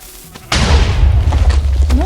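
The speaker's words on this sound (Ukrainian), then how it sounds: "Як ви бачите, тут багато вибухів." Minecraft TNT cannon fire: after a quiet start a loud booming explosion hits, followed by a rolling, rumbling tail of further blasts and debris noise.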